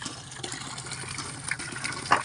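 Water gushing from a hand pump (poso), running milky like coconut water, a steady splashing flow close by with a brief louder burst near the end and no voices.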